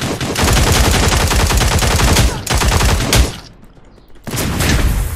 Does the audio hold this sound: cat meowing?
no